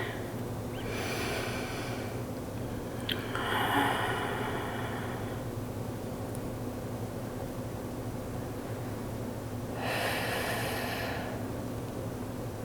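Slow, deep breaths drawn during a yoga session, a few soft airy inhales and exhales rising above a faint steady background hum, spaced several seconds apart.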